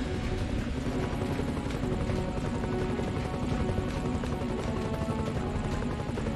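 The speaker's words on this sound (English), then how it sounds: "Helicopter, sir?" A steady, dense mechanical roar with rapid rotor-like chopping fills the whole stretch without pause, like a helicopter engine running nearby, in the PC video game Iron Man.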